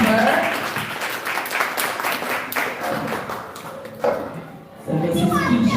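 An audience applauds at a school ancillary staff day award ceremony, a steady wash of clapping lasting several seconds with children's voices mixed in and a brief lull before it swells again.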